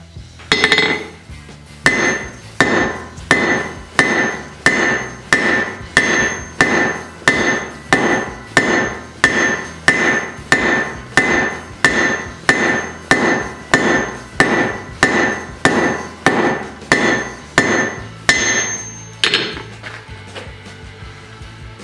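Hammer blows on hot, bright orange steel over an anvil, a steady series of about two dozen loud ringing metallic strikes in an even rhythm, close by, ending abruptly.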